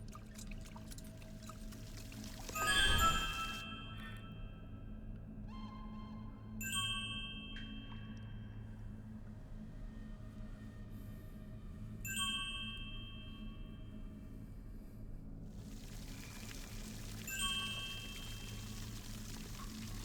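A pouring liquid effect from the game Little Goody Two Shoes, with a soft swell near the start followed by faint chimes and tones that recur at intervals over a steady low hum, with no talk.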